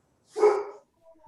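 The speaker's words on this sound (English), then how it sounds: "Someone's dog's joined the meeting." A dog barks once during an online council meeting, a single loud, close bark followed by faint trailing noise.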